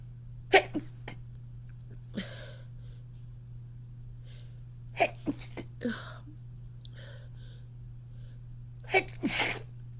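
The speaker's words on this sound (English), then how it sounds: "I'm gonna sneeze" A woman with a cold lets out a series of breathy, stifled sneezes, several sharp close bursts spaced across a quiet room over a steady low electrical hum.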